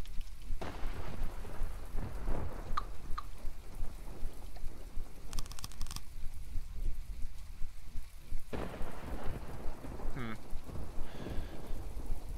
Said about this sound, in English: Still really stormy too.